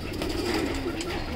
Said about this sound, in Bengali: এই হচ্ছে কবুতরগুলো সবগুলো এই জায়গায়